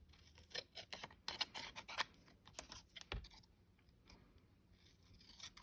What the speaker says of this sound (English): And then trim around that. Scissors.